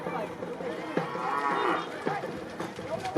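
A calf moos repeatedly at an open horse and bullock cart race ground, the lowing calls loud and close over a busy crowd murmur.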